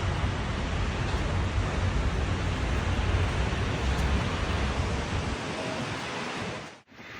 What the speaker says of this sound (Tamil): ஏய் என்னங்கடா இப்படி காத்து அடிக்குது